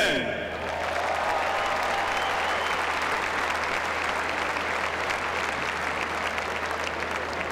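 Sustained applause from a crowd at a Chapel Hill ceremony honoring the late-1960s UNC men's basketball team, loud and steady throughout with dense clapping and no gaps.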